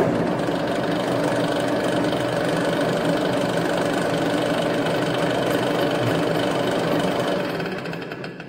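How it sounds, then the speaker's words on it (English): A lathe turns a 25 mm metal specimen at 210 rpm while a grooving tool cuts into it, giving a steady, loud mechanical drone and hum that holds evenly throughout and eases slightly at the very end. "So now we'll perform the grooving operation."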